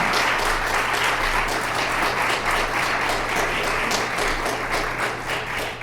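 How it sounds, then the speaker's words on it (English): Sustained audience applause at a veterans forum in Leominster, honoring Secretary Santiago: a dense, even wash of many hands clapping from start to finish, loud and filling the room. "Can we give Secretary Santiago a round of applause,"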